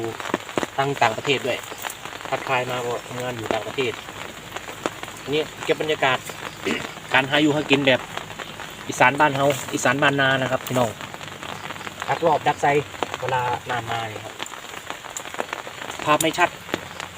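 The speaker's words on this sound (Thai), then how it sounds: "วันนี้ฝนมันตก" Steady rain falling outdoors during a morning check of fish traps in rural Isan, Thailand, a constant patter running beneath someone talking throughout.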